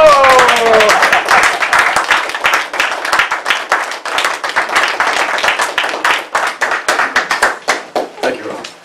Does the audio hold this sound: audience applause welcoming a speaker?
yes